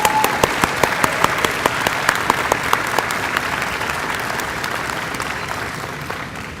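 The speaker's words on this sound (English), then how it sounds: "Let's give all the students and faculty of these programs a round of applause." Students and faculty at an Allied Health pinning ceremony at Howard College in San Angelo receive a warm round of applause from a crowd, steady dense clapping that gradually fades, with no talk over it.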